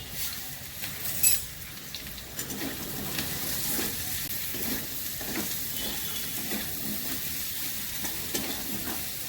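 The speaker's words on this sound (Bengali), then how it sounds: "মশলা ভাজা হয়ে গেছে," Chili, coriander and cumin powders fry with salt and turmeric in a pan for a Bengali shrimp and taro curry, giving a steady close sizzle with occasional stirring scrapes and no voices.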